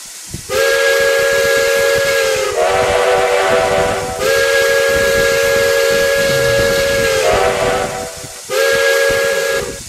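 Loud steam whistles in the video game RO-Scale Sandbox blow in three long sustained blasts, each a bright multi-tone chord with a hissing edge, separated by brief pauses.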